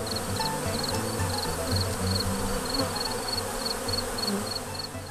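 Irritated honey bees swarm around an open hive being smoked by a beekeeper, a thick, constant buzzing drone close by with overlapping wingbeat tones rising and falling.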